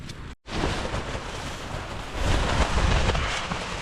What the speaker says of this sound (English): There's too much wind.